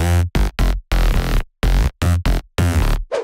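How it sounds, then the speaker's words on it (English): A dry FL Studio synth mid bass with no effects plays a choppy rhythmic pattern of bright, buzzy notes separated by short gaps. It is loud and upfront, and there is no talking. "Mid bass without effect sound like this."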